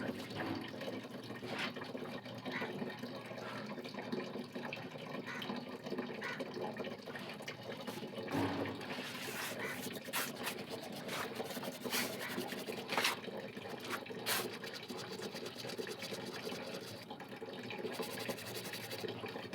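Water runs steadily from a tap, a constant gushing splash with occasional scrubbing and rubbing noises mixed in.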